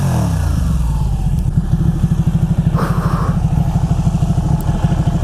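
A 2012 Ducati Panigale 1199 superbike's exhaust rumbles loud and close with a steady, pulsing low throb, briefly rising in pitch mid-way as the throttle is blipped, then settling back into the dense rapid firing beat.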